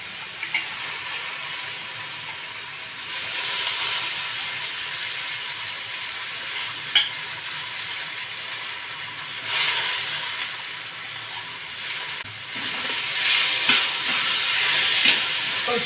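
Soaked masoor dal sizzles as it is stirred and fried with taro stalks in a pan, giving a steady close hiss with occasional scrapes and small spikes of stirring.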